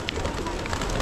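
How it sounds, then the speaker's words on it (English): Many pigeons coo in a crowded temple square in Kathmandu, Nepal, a close, dense murmur of soft calls filling the brief moment. "I can't believe how many pigeons are here."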